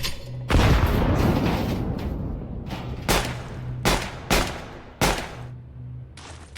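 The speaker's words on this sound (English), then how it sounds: "Throwing a grenade." A grenade detonates in Counter-Strike 2 on the new Nuke map, opening with a loud, long boom followed by several sharp, punchy blasts and gunshot-like cracks spread across the next few seconds.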